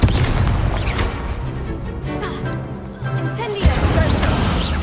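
Confringo blasting-spell explosions and booming magical impacts in the Hogwarts Legacy video game, loud bursts amid dueling battle noise with shouted spell incantations.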